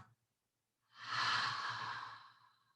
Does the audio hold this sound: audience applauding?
no